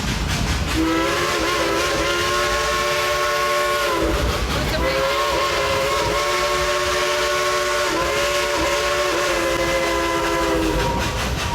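Steam locomotive engine number 192, Klondike Katie, on the Dollywood railroad in the Smoky Mountains, sounds a loud, long multi-tone whistle in repeated extended blasts over the rumble of the running train.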